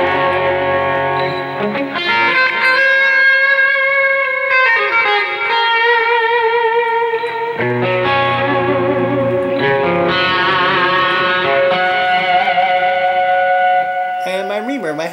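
Lead electric guitar played through delay on a Boss eBand JS-10, sustained singing notes with repeating echoes trailing behind, loud and continuous throughout with no talking.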